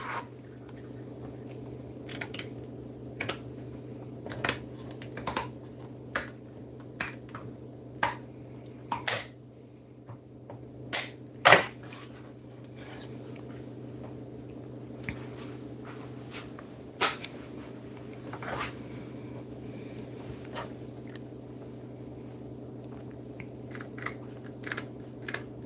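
A tilapia being trimmed with scissors, crisp snips coming one at a time at uneven gaps over a quiet steady hum, some snips close together and others spaced out, close and dry, with no talk.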